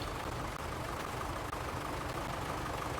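A Minneapolis Moline tractor engine in Farming Simulator 22 idles with a steady, loud, low rumble that continues unbroken.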